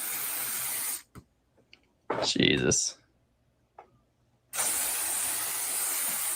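An aerosol can of insecticide hisses in long steady sprays aimed at roaches on a wall wire, with a brief exclamation from a person between the bursts.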